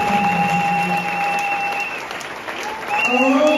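A church congregation applauds in acclamation of God, a dense, steady wash of clapping from many hands lasting throughout, with sustained tones and faint voices running underneath.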